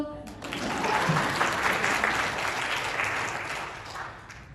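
An audience bursts into applause at a leadership speech session, the clapping swelling to a dense, sustained patter and then tapering off.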